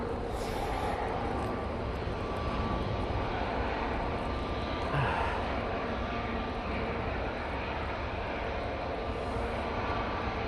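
TUI Boeing 737 MAX 8 jet on the runway at a windy Manchester Airport, a steady broadband engine roar mixed with heavy wind buffeting, continuous and fairly distant with no talk.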